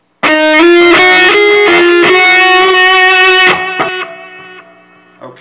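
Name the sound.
distorted electric guitar riff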